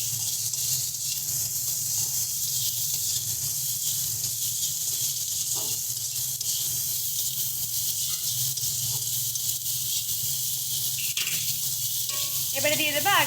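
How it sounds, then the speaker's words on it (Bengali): Spices and potatoes fry in a pan for an okra and prawn dish, giving a steady, close, continuous sizzling hiss that stays even throughout. "সমস্ত কিছু দিয়ে ভালো করে মশলাটাকে কষিয়ে নেব।"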